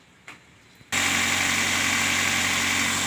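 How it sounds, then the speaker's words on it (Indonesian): A car engine cranks and catches after a short quiet pause, then settles into a loud, steady idle with a constant hum and fine rattle. "di sini mesin sudah hidup"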